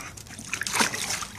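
Water sloshing and splashing in a bucket as a dog plays in it, a short, close, moderately loud burst of churning liquid with light trickles; no talking.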